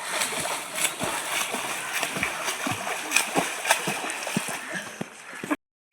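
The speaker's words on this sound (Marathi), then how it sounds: "आणि आता पाण्याला बघून एकदम मूड झाला तर मारली एक डुबकी." Someone dives into an outdoor swimming pool, followed by continuous splashing and sloshing of water close by, with a voice talking over it before it cuts off abruptly.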